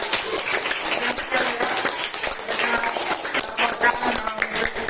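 A classroom of students claps and cheers for student reporters, a dense, continuous burst of applause with voices mixed in.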